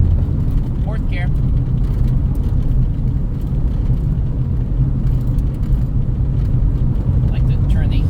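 Inside a 1984 Dodge Mini Ram truck driving in fourth gear, a loud, steady engine and road rumble fills the cab, and brief bits of speech come through over it.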